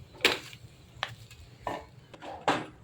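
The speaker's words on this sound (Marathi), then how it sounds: "गूळ आणि खोबरं हे दोन्ही एकजीव होईपर्यंत त्याला भाजून घ्यायचं आहे" Jaggery and grated coconut roasting in a pan for modak filling, stirred with a few distinct scraping strokes spaced about a second apart over faint background hiss.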